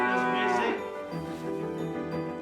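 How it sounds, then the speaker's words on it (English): Calves mooing on a Yorkshire farm, a long, loud, close moo that rises and bends, followed by a lower, quieter second call. "Ever present on the farm have been Jean's beloved calves."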